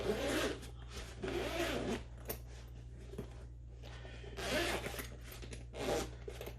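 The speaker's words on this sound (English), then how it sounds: "Double zipper." A double zipper on a waterproof carrying bag for the FIMI X8 SE drone is pulled open in several rasping strokes of uneven length with short pauses between, close up, over a low steady hum.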